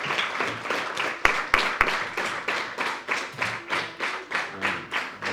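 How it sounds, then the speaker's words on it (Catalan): A school audience gives a warm round of applause at an Erasmus+ interview event, steady rhythmic clapping at moderate distance with a few sharp louder claps early on, no talk over it. "I este fort aplaudiment de tots nosaltres."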